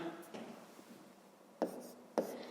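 Pen strokes writing out a fifth-grade math exercise on paper: soft, steady scratching with a few sharper taps near the end, close and quiet, with no one talking.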